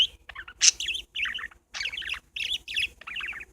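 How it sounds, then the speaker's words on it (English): Pet parakeets chirp and tweet in short bursts of bright, close calls, with brief pauses between phrases and one sharper squawk early on, alone without talk. "These are how the birds interact with each other."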